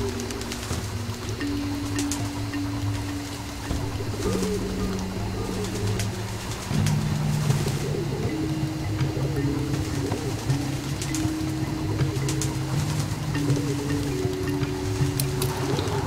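Several pigeons outside keep up repeated low, rolling coos that overlap one another over a constant hissy background, fairly close and with no speech.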